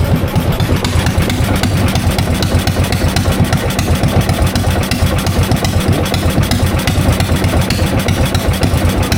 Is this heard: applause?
no